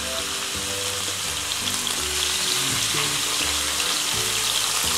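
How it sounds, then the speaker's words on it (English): Marinated salmon fillets sear in hot oil in a pan, giving a loud, continuous close-up sizzle that holds steady throughout with no voices. "And I can turn this down now so that the oil doesn't splash you."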